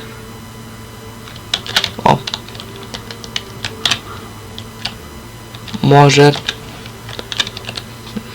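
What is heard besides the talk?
typing on a computer keyboard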